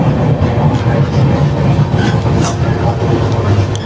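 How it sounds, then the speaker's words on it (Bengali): Interior of the Puri–Howrah Shatabdi Express slowing into a station, a loud continuous low rumble with faint rattles and brief higher clanks, no voices. "স্টেশনে আস্তে আস্তে থামছে ট্রেনটা।"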